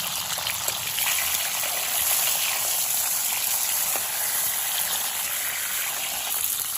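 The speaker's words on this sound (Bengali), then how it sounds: "দেখুন হাই ফ্লেমে পটলগুলো খুব সুন্দর করে ভেজে নিয়েছি লাল করে" Pointed gourds (potol) frying in hot oil over a high flame, giving a steady, dense sizzle and hiss that runs unbroken at moderate loudness with no voices.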